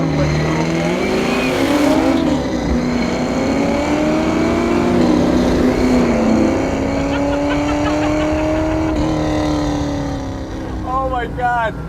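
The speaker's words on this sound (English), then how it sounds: "Let's get an idea of what this car is like if you just run through the gears. Not the crazy, no super crazy burnouts, just some nice acceleration." A 1967 Shelby GT500 Eleanor muscle car accelerates hard through the gears, its loud engine rising in pitch through each gear with a brief drop at every shift, heard up close.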